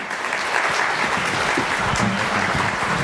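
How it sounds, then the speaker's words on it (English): An audience at a church celebration applauds Jan and Marley, a full, steady round of clapping at close range, with faint voices murmuring underneath. "Let's give them a round of applause."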